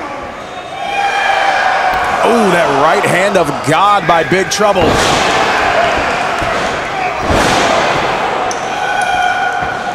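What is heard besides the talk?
wrestling crowd at Momocon cheering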